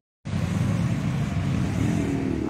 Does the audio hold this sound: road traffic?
yes